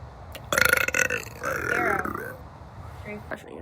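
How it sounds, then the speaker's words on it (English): A woman gives a loud, close burp: a sharp croaking onset followed by a longer rumbling, wavering belch, with a brief grunt-like sound afterward. "That burp was stuck."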